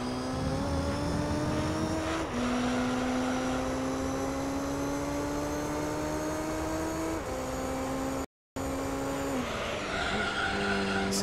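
Chevrolet Corvette C5 race car in the Gran Turismo 3 video game, its engine droning steadily with pitch stepping up through several gear changes, a moderate level with no talk.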